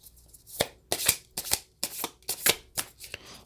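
Playing cards being shuffled and a reading card drawn: a close, loud run of about ten sharp riffling bursts in an irregular rhythm, with no voices.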